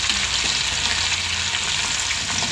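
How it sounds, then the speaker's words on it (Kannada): Boiled corn kernels fry in hot oil, a loud dense sizzle with crackling splatters and pops throughout, close and steady with no talking. "ಸಿಡಿಯುತ್ತೆ ಎಣ್ಣೆಗೆ ಹಾಕಿದಾಗ"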